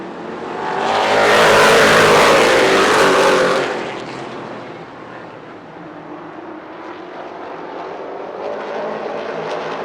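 Modified, late model, street stock and FWD race cars roar past on the Kalamazoo Speedway oval, a loud swelling engine surge that peaks and fades, then settles into a steady distant drone.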